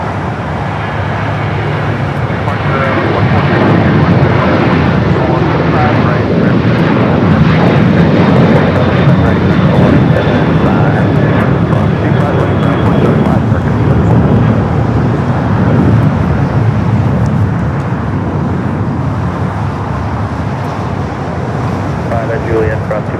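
A Boeing 737-800 jet at Los Angeles airport, bound for Portland, roars loud and steady for the whole stretch, swelling slightly in the middle, with a person talking over it.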